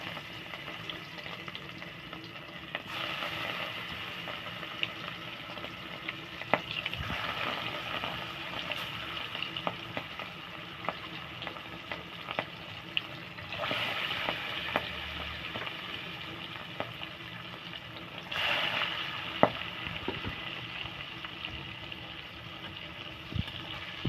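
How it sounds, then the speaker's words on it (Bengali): Catla fish pieces fry in oil in a pan for a potato and fish curry, giving a steady, close sizzle that runs unbroken with a few light stirring clicks and no talking. "মাছটা ভাজা হয়ে গেছে, এবার নামিয়ে নেব।"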